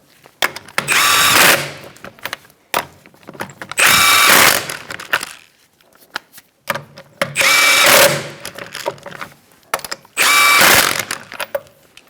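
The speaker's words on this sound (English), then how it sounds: "And then tighten them in a star-like pattern." A power tool drives lug nuts tight on the rear wheel of a 2004-2009 Mazda 3, four loud, close bursts of roughly a second each, separated by short pauses with faint mechanical clicks.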